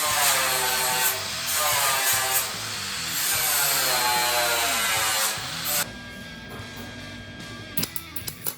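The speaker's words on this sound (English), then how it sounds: "I took my flap disc and flattened out all the other welds on the top." A flap disc on an angle grinder flattens welds on top of a metal shop sign, a loud continuous abrasive grinding that runs steadily for about six seconds, then drops to a quieter hum with a few sharp clicks near the end.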